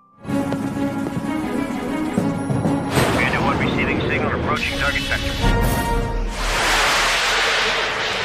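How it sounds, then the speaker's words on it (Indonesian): A film explosion erupts as a broad, rumbling blast and is followed by a second heavy burst of roaring debris. Both play under a narrator's continuous voice. "bertepatan dengan berhasilnya sang penyusup yang mengunci target hingga terjadinya ledakan"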